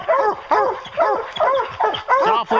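Several hunting hounds bark and bay in rapid, repeated bursts at a bear up a tree, loud and near, with yips and whines layered between the barks.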